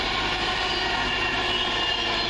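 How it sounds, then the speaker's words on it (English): A Virgin Trains Pendolino slows sharply for a red signal, sending out a continuous close rolling rumble and hiss of wheels on rail that holds steady and loud throughout, with no voices. "that sounds like it's slowing down rather dramatically. For a red signal."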